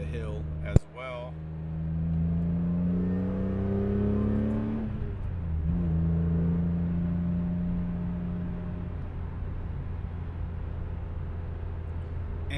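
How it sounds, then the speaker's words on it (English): A 2004 BMW E46 M3 with a six-speed manual revs its engine while climbing a hill. The steady, loud engine drone rises in pitch, dips briefly, then holds at higher RPM, with a sharp knock near the start and a voice talking over it. "We'll go ahead and get the RPMs up just a hair."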